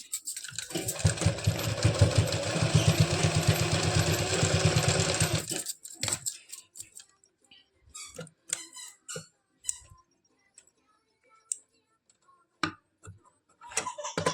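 A sewing machine stitches a seam on palazzo pants in a loud, rapid, steady run lasting several seconds, then stops, leaving scattered handling clicks and taps.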